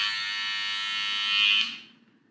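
A hair clipper running on a Tomb 45 replacement battery, the same kind that comes with the Babyliss FX clipper, gives a steady, close electric buzz that swells slightly, then dies away as it is switched off.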